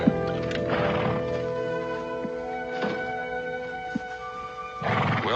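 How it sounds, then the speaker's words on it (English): A horse whinnies and snorts close by, with a hoof thud or two, over a steady background hum. "Ormond, your horse is here."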